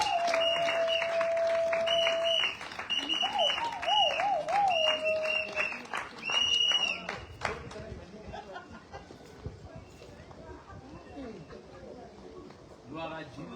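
Wedding congregation at a nuptial blessing breaking into applause and cheering: dense crowd clapping swells after a stretch of sustained voice or music, with a voice carrying over the noise.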